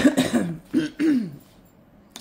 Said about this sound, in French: j'ai une petite toux fatigante